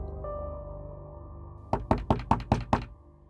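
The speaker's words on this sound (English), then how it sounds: "a knock at the door" Six firm knocks on a door arrive in a quick, evenly spaced burst after a quiet stretch of low ambient hum, loud and close with no talking.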